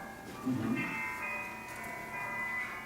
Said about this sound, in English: Oh, I thought Mr. Pierce was playing with chimes